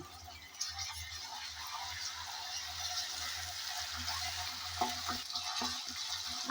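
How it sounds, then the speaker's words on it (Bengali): Ginger-garlic paste frying with onions in a pan for a hilsa fish curry, a steady close sizzle with occasional stirring scrapes and clinks, no voices. "আদা আর রসুন বাটা দিয়ে নেড়ে চেড়ে পেঁয়াজের সাথে ভেজে নিয়েছি"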